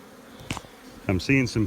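Honeybees in an open hive box buzz nearby in short bursts, the hum swelling and fading as individual bees pass close, with a steady low hive murmur behind.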